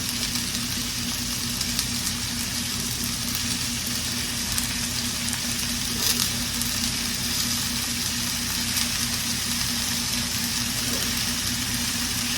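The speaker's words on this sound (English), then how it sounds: "What I'm going to do first is put some mushrooms in here and let them brown up a little bit." Mushrooms and onion brown in a hot pan with a steady, loud, continuous sizzle close by and a faint low hum underneath, no talking.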